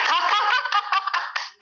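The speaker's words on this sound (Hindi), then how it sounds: "ताली बजाएंगे" A group claps hands in a seated session, a short burst of overlapping claps mixed with light laughter.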